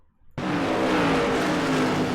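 A race car engine roars in suddenly and holds a loud, steady, close drone at Indianapolis Raceway Park, during a modified-class night race.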